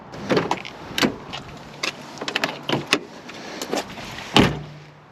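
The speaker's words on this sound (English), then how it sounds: "This might be one of the issues with the truck, is that it doesn't like to pop the hood" A 1995 Chevrolet S-10 ZR2 pickup, whose hood is reluctant to release, gives a string of close mechanical clunks, clicks and latch knocks at irregular intervals, ending in one louder thunk.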